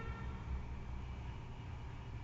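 A train passes at a distance, a faint, low, steady rumble heard alone with no talk.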